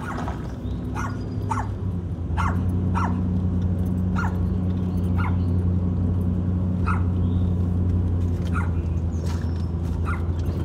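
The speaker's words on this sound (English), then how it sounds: "Got his dog barking at us here." A dog barks repeatedly at a distance beside private property near Dollywood, its sharp barks spaced irregularly over a steady low car engine rumble.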